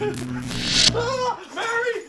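A dog gives short, high whimpering whines close by, two rising-and-falling cries with a brief gap between them, heard amid excited voices.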